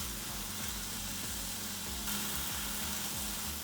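Split pea lentils (toor dal) cook in a pan with a steady, soft sizzle and crackle, faint and continuous, with a few gentle stirring scrapes and no voices.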